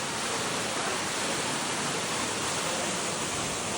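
Hedge Creek Falls on a Mt Shasta hiking trail pours in a constant, dense rushing roar, loud and steady with no pauses and no voices.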